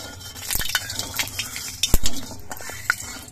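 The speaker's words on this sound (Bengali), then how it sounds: "নুনটা দেওয়ার পর তেলের সঙ্গে নেড়ে চেড়ে মিশিয়ে নিচ্ছি, আর কড়াইয়ের চারপাশে তেলটা লাগিয়ে নিচ্ছি।" Salt being stirred into hot oil in a wok, with a metal spatula scraping and clinking against the pan in irregular strokes over a soft background sizzle.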